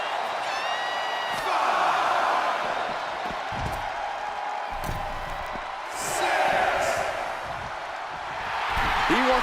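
Arena crowd at an NXT wrestling event, a broad sustained roar that swells in waves, with whistles, shouts and thuds from the ring mixed in, and a commentator talking over it.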